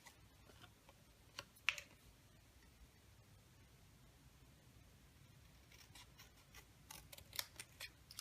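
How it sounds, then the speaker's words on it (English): Scissors snip through a paper card sentiment, cutting up the center and in from the sides to form a banner end; a few quiet, brief cuts stand out against faint background hiss. "I'm just going to cut up the center and then come in from the sides"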